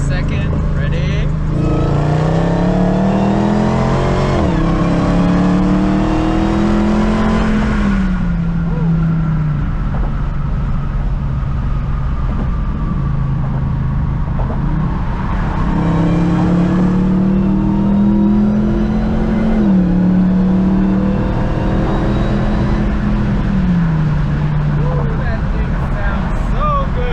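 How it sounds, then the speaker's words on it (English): A Dodge Challenger Hellcat with a Zoomer's catback exhaust makes a tunnel pull, its engine climbing loudly in pitch, dropping on a shift, then rising again in a second pull, with a booming exhaust and a voice speaking over it. "I just can't get enough of this Zoomer'S exhaust. It sounds so goddamn good."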